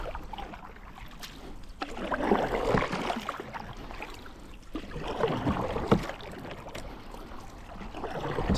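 A canoe paddle dips and pulls through the calm water of the Caledonian Canal, with soft splashes and trickles rising and falling in slow strokes against gentle outdoor ambience.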